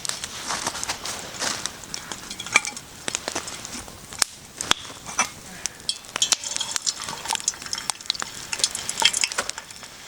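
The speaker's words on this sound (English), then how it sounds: "Starting to hear the sizzle on that oil." Chicken wings sizzle and fry in oil over a campfire during winter camping, a steady crackling hiss with sharp pops and occasional clinks of a utensil, close and fairly loud.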